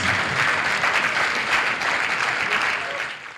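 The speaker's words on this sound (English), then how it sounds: "Let's clap for Jesus" Congregation applauding in church for Jesus, a dense, steady wash of many hands clapping that stays fairly loud throughout, then tapers slightly near the end.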